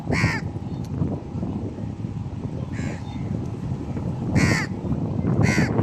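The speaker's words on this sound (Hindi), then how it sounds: "बहुत ज़्यादा हैं दमाम में कौवे" Crows caw outdoors in Dammam: a few separate harsh calls at a moderate distance, spread across steady wind and background rumble, with no talking.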